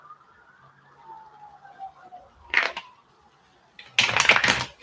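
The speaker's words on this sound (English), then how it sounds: "Yeah, I know y'all hear them sirens." A police siren wails faintly in the distance outside, a thin gliding tone that rises and falls, broken by two short bursts of louder nearby clattering noise.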